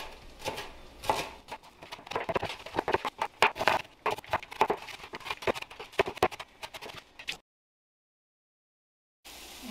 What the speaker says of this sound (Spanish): Vamos a picar nuestro cilantro y un poco de cebolla para nuestra salsa.